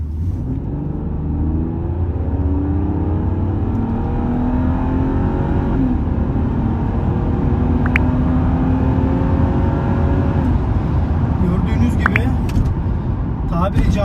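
A BMW E39 engine revs as the accelerator is pressed, a loud, continuous rumbling drone with rising and falling pitch heard up close, while someone talks over it.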